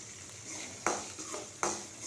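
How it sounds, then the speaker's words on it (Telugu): A tempering of mustard seeds, cumin, chana dal, urad dal, curry leaves and asafoetida frying in oil, giving a soft steady sizzle with two sharp spoon scrapes against the pan, heard close with no talk. "పోపు బాగా వేగింది"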